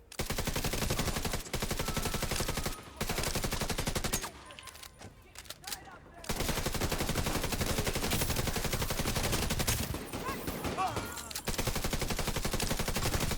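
Light machine gun fire in a video game rattles in long, dense automatic bursts, loud and near, broken by brief pauses, with a voice talking over parts of it.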